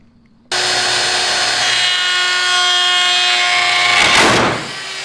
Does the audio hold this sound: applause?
no